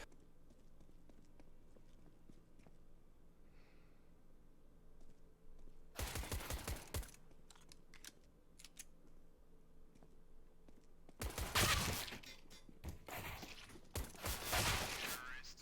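Default pistol gunfire in a Counter-Strike style tournament round, short bursts of rapid cracking shots in two clusters over a quiet background of faint clicks and ambient game noise.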